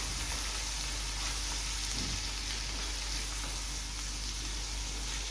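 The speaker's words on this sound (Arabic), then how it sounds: "راح ضل حرك لما يتبخر عندي شوي الصويا صوص والورشستر صوص" Onions frying and being stirred in a pan with soy sauce and Worcestershire sauce, giving a steady, dense sizzle that runs unbroken throughout.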